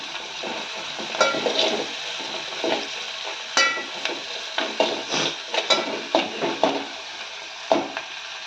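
Tempering spices for upma fry in a pan with a close, steady sizzle. Repeated stirring scrapes and light utensil clinks come at an irregular rhythm, with no talking.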